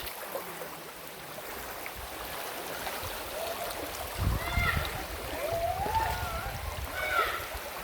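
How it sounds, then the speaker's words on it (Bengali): Water rushes continuously at Khoiyachara waterfall in Sitakunda, Chittagong, heard from the forest path as a broad steady flow that swells midway, with faint voices and brief splashes over it. "পানির শব্দ শুনতে পাচ্ছেন"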